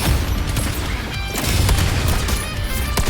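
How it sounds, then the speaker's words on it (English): A mortar blast in the video game Wuthering Waves booms heavily, surrounded by dense, continuous game audio and music that never lets up. "Another mortar thrown at us."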